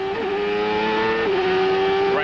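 CART Indy cars racing at Vancouver in 1995, engines held at a loud, steady high whine that dips briefly under braking and then climbs again as they accelerate, with several cars overlapping close by.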